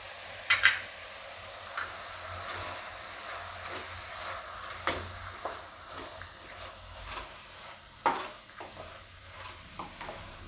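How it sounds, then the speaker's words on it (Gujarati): Spinach being stirred in a pan with salt, turmeric and coriander-cumin powder, soft scraping strokes and light sizzle at a low level, with a few sharper clinks of the spoon against the pan. "બધું આપણે મિક્સ કરી લઉં આ રીતે."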